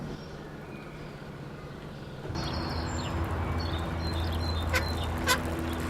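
Ducks quack in the countryside, scattered calls rising over a steady outdoor background, moderately distant and not loud.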